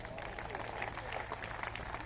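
An audience at an outdoor public gathering in Lohiya Park, Lucknow, applauds in a dense, steady wash of clapping that stays fairly quiet and distant throughout.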